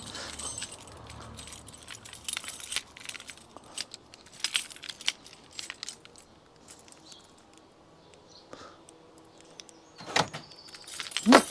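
Keys jangling and clinking in bursts while a 300Tdi 4x4 overland truck is unlocked on a driveway, faint and close-up with quiet gaps between handlings and a louder rattle at the end.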